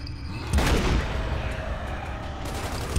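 Gunfire in Gears of War 2 as a big enemy soaks up shots, with a heavy boom-like burst early on followed by sustained rumbling fire and battle noise.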